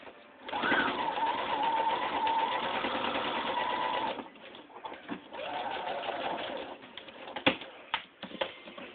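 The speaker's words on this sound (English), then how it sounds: "I'm just going to do a stitch across." A sewing machine runs a straight stitch across a fleece hat, whirring steadily and close for about three and a half seconds, then a shorter second run, followed by clicks and handling noises.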